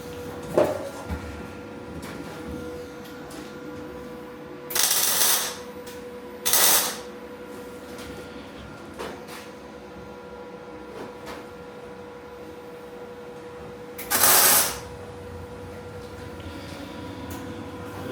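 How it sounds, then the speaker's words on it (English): Tack welding on a steel teardrop trailer frame: a few short, separate bursts of crackling arc, each about a second long, with quiet gaps in between. "So tack welding it on."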